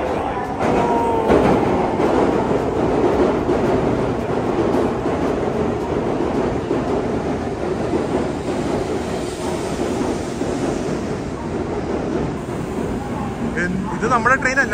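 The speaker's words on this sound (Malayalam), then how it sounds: "ഇത് നമ്മുടെ ട്രെയിൻ അല്ല, പക്ഷെ ജസ്റ്റ് ബുള്ളറ്റ് ട്രെയിൻ കാണിക്കുകയാണ്" A Japanese Shinkansen bullet train pulls into a station, its steady rumbling rail noise and whooshing passage continuous and fairly loud throughout, with faint voices mixed in.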